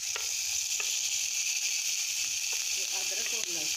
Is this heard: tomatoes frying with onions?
yes